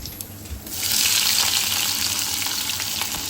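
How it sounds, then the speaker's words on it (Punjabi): Tempering spices hit hot oil for a tadka while making baingan bharta, bursting into a loud, steady sizzle after a brief quiet moment and crackling continuously up close. "ਫਿਰ ਵਿੱਚ ਆਪਾਂ ਤੜਕਾ ਦੇ ਵਿੱਚ ਭੁੰਨ ਲਾਂਗੇ"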